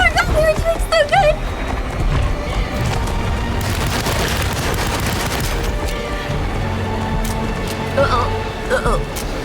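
Gunfire from the video game Alone in the Dark, a dense burst of shots and booms through the middle under steady game noise, with excited talk over it.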